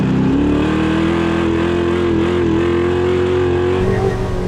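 An 830 HP Bronco King of the Hammers off-road racer drives at steady engine speed, its loud, close, continuous exhaust drone holding a sustained tone before rising slightly near the end.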